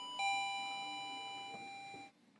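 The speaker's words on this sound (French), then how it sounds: "Le carillon de sonnette détecte l'ouverture du volet grâce à un capteur." Doorbell chime set off by a sensor on a mailbox flap, ringing one soft two-tone ding-dong that hangs and fades over about two seconds before cutting off, heard fairly quietly in a room.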